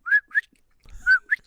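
A person whistles in imitation of a bird: two quick rising chirps, a pause, then another matching pair, clear and close with no other sound between them.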